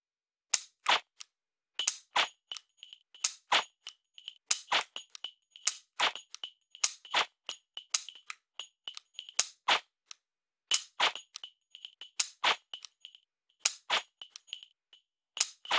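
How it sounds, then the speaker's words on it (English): Dry-fire practice with a laser training pistol on a laser-hit target system: a timed string of sharp, close mechanical clicks, each paired with a short ringing beep, coming in quick bursts with brief pauses between. "I'm going to shoot at that middle target."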